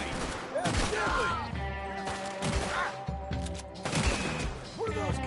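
Burst after burst of gunfire in a PS4 game crackles across the scene, loud and repeated, with a musical score underneath and a brief exchange of voices.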